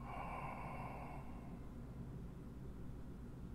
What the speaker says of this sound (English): from the back of your throat, make an H-U-H sound